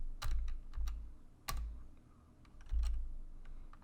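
Computer keyboard keys tapped in quick irregular bursts while a command is entered at a prompt for a beginner Python exercise, close and clear with short pauses between clusters of clicks.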